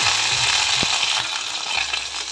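Green chili and ginger paste, ground on a grinding stone, added to hot oil for a chalkumro (ash gourd) dish, making a loud continuous frying hiss with a brief clatter near the start.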